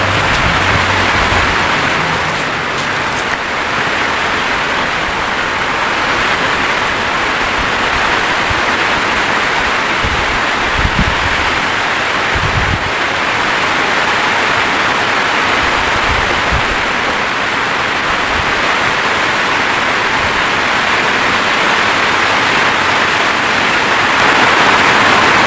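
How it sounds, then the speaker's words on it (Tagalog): Heavy rain falls outdoors in a steady, loud broadband hiss that continues unbroken, with a few dull low thumps scattered through and no talking. "Malakas ang ulan."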